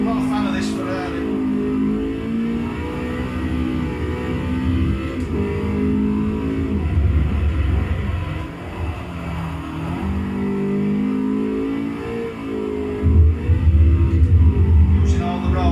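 A Ferrari revs and accelerates in Forza on Xbox 360, its engine tone rising and falling through repeated climbs and gear shifts, with someone talking over it.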